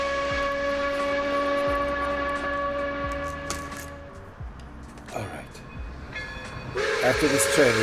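A passing train, loud and close, with a sustained multi-tone horn blast, a rumbling roll, then a second horn burst near the end, all without speech.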